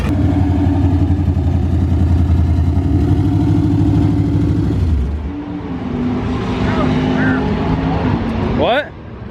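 A drag racing truck running nitrous roars loudly at close range, holding a steady engine drone before the pitch drops off midway into a lower rumble, then a brief rising whine near the end.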